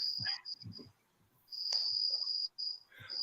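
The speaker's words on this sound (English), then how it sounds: "you need to get those crickets to shut the hell up" Crickets chirp in long, high, steady trills that stop and restart, fairly close, with a few soft low thumps and murmurs in between.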